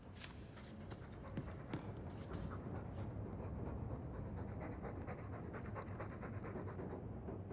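A dog panting heavily and continuously in the fantasy role-playing game Dragon Age 2, rapid rhythmic breaths close up and fairly loud, with no talking.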